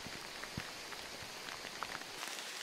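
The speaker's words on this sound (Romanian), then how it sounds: "e o ploaie de vară e binevenită" Summer rain falls steadily in the Vârghiș Gorge, a faint, even hiss of drops spattering on surfaces nearby, with no voices.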